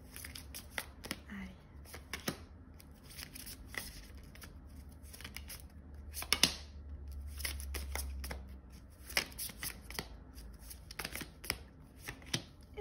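Tarot cards being shuffled by hand, a soft papery riffling and slapping in repeated bursts, close and fairly quiet, with no talking over it.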